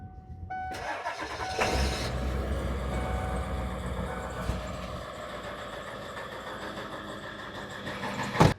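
A vehicle engine cranks and starts after a short system power-up, then settles into a steady idle with a low rumble and a faint whine, heard fairly close with no talking.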